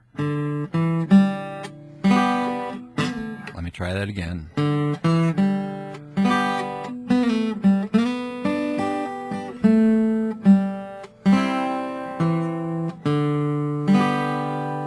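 Acoustic guitar plays a plucked gospel solo phrase from Amazing Grace with ringing single notes and occasional strums, steady and close, with a brief spoken interruption partway through.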